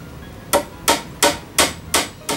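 Six sharp hammer strikes drive thicker, longer replacement nails into a musical instrument under repair, evenly spaced and crisp, each ringing briefly in an otherwise quiet room.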